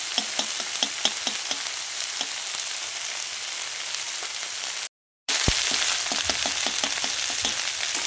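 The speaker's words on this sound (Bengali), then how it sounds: "রসুনটাকে একটুখানি ভেজে নেব হালকা।" Garlic sizzles lightly in a pan of mixed vegetables pushed to the sides for a fish-head chorchori, a steady close crackle with soft repeated ticks of stirring, a short silent gap, then the frying resumes.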